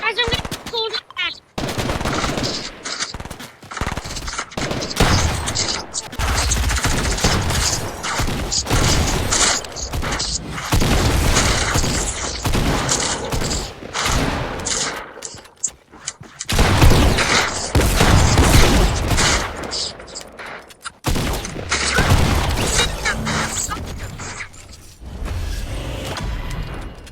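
Rapid automatic gunfire and shotgun blasts from a shooter video game with crate drops, firing in dense bursts nearly nonstop, loud and close, with brief pauses between volleys.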